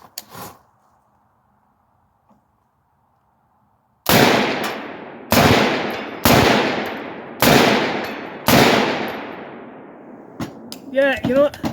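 Five loud, closely spaced gunshots ring out from an AR-47 rifle fitted with a Deer Creek Stealth Blast flash hider, each sharp crack trailing off in echo, after a quiet stretch and followed by a faint clatter.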